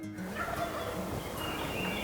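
Wild turkey gobbling from somewhere in the field, a rough, rattling burst followed by more calling over steady outdoor background noise, fairly distant and moderately loud, with no voices.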